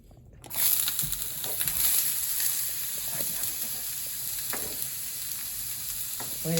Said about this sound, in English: Diced onions. And putting it to the pan here.